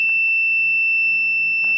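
An MAM-860 controller sounds its alarm after a wrong password, a continuous piercing electronic tone that holds steady and loud from start to finish, with faint clicks at the edges.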